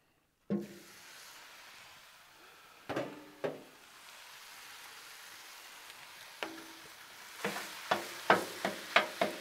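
Ground chuck hits a hot Blackstone griddle with a sudden sizzle that settles into a quiet steady hiss, broken by sharp scraping taps from a spatula that come more often toward the end.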